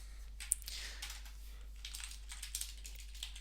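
Soft, scattered keystrokes on a computer keyboard as code is typed, quiet and close, with a low steady hum underneath and no voice.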